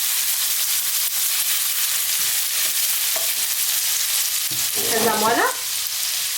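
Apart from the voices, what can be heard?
garlic and ginger frying in hot oil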